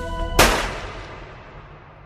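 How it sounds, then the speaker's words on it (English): Single gunshot in an English-dubbed anime, a sharp loud crack cutting off a sustained tone and trailing into a long fading echo. "Did either of you hear a gunshot just now?"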